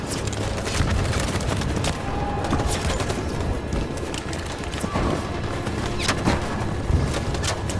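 Troops firing guns in a Detroit: Become Human battle: sustained, dense bursts of gunfire with sharp cracks scattered through a steady loud roar, lasting throughout.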